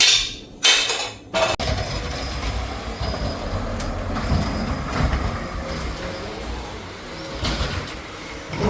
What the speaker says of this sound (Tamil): தேர்ஸ்டே ட்ராஷ் வண்டி ட்ராஷ் எடுக்கிற டே